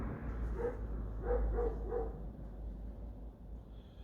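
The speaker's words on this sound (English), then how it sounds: "Is that our friend out there barking?" Someone else's dog barks outside: a few muffled, distant woofs in a quick cluster over a steady low hum, faint and alone.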